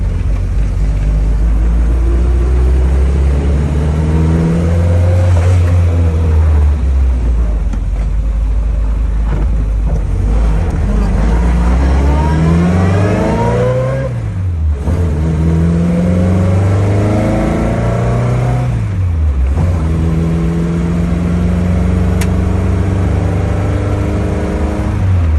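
A 1968 Triumph Spitfire's engine is heard from close by, loud and steady, with rising revs that fall back between gear shifts several times as the old British car drives on.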